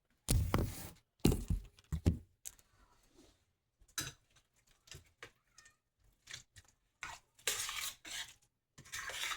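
Thick churro dough mixture is stirred in a bowl with a spoon, making irregular close scraping and knocking bursts separated by short pauses, and nobody speaks.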